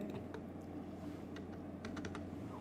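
Typing on a computer keyboard while entering a formula into a spreadsheet, a few quiet scattered key clicks over a steady low background hum, with no talking.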